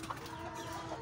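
Chickens, a mix of white and mixed-colour laying hens around one kilo each, clucking softly and continuously in a backyard coop, with a brief brighter cluck or two standing out over a steady low murmur.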